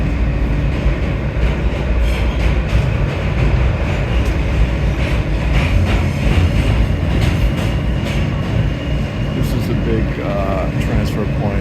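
An R160 subway train running on a legacy BMT line between Brooklyn and Manhattan, heard from inside the car as a loud, steady rumble with rail clatter, while a voice talks over it.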